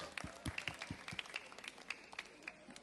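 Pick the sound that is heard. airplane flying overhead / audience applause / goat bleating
audience applause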